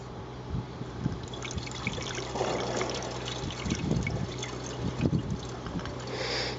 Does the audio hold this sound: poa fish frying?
no